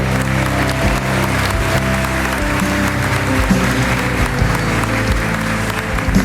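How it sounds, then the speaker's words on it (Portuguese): A church congregation applauds at a worship service, a steady wash of clapping spread across the room throughout, mixed with sustained low instrumental music underneath. "Vamos lá, aplauda Ele."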